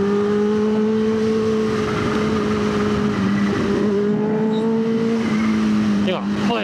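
A Kawasaki H2 motorcycle climbs the road up to Cameron with a loud, steady engine drone that holds its pitch for several seconds, dips and shifts slightly, then rises as the rider changes throttle near the end.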